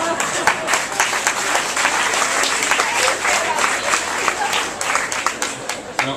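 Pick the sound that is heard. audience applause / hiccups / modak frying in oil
audience applause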